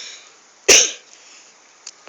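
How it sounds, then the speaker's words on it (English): One sharp, close cough bursts out in a quiet room, followed by a couple of faint small clicks. "I've been having cough lately"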